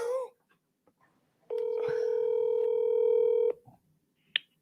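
A phone keypad sends a steady two-tone DTMF dialing beep lasting about two seconds, loud and close, with faint handling noise around it and a brief tone chirp near the end, placed for a prank call.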